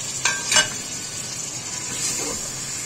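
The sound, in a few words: tomatoes sizzling and being stirred in a pan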